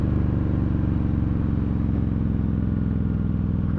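A 2020 Harley-Davidson Street Bob with aftermarket exhaust idles loud and close, its deep, lumpy engine pulse throbbing evenly throughout.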